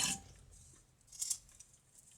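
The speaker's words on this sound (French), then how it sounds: "On va venir couper ce qui dépasse ici." Sharp scissors snip away excess fabric from a vintage béguin-style hat, with two quick, faint cuts separated by a quiet pause.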